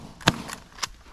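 Shotgun blasts ring out during an early-season Canada goose hunt in Michigan: three sharp reports, two close together and a third after a short pause, fairly distant and moderately loud in open air.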